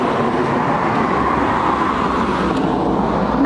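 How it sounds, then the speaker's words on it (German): A bus passes a roadside bus stop in Brazil, giving a loud, close, continuous engine and road roar that holds steady throughout. "So, da war einer von diesen Bussen."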